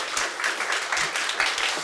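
A Korean seminar audience claps for a line leader, a brief, steady patter of many hands at moderate volume, with a few voices murmuring underneath.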